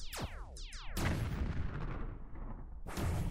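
Ship cannons fire in the space combat game Battlestation: Harbinger, heavy booms landing between sweeping descending electronic whooshes, with a long rumbling tail and another loud blast near the end.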